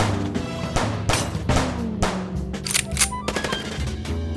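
Gunfire rings out in the video game Chicken Police as loud, sharp bursts, some repeating in rapid succession and others spaced apart, with ringing tails and clattering between shots.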